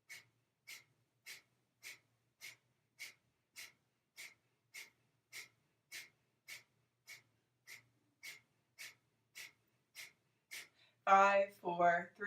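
Short, sharp breaths repeat in an even rhythm, about twenty quick nasal puffs close up during a seated chair yoga breathing exercise, quiet in between, then a voice starts speaking at the end.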